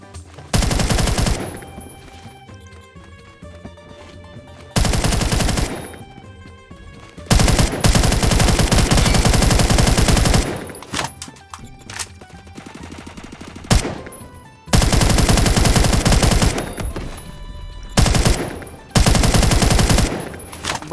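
Rapid automatic bursts from an ACR Type 20 rifle in the online shooter Phantom Forces, loud and close, firing in several sustained strings of roughly one to three seconds separated by short pauses, with no talk.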